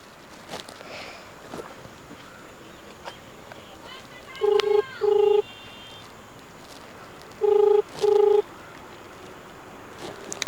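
Telephone ringing back in a pair of twin electronic ring bursts, then another pair a few seconds later, set against faint background noise.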